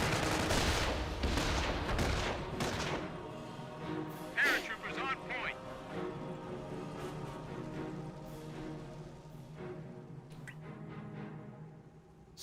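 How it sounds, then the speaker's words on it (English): Gunfire and a grenade blast in the WWII strategy game Company of Heroes, with rapid bursts of shots early on and a sharp blast near the middle, all under steady commentary. "Throws a grenade after them."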